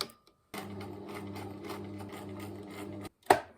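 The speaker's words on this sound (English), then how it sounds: "I practiced sewing the buttonholes using this standard universal foot" An old sewing machine with a standard universal foot stitches a buttonhole in one steady run of about two and a half seconds, followed by a short sharp clunk as it stops. No one speaks.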